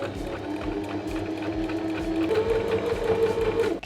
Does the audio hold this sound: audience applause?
no